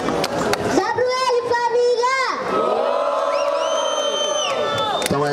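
A live crowd at a Rocinha rap battle roars with shouts, whoops and cheers, loud and close, while an MC's amplified voice rings over the noise.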